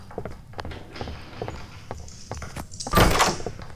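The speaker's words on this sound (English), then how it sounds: "Door's open." A door opening in a video game, heard as a short clunking burst near the end after a stretch of small clicks and footstep-like taps.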